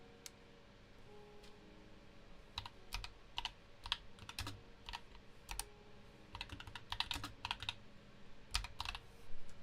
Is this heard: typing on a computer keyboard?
yes